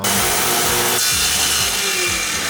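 Power saw cutting through old wooden doors, a loud, close, continuous harsh rasping whine with a shifting pitch partway through, no voices.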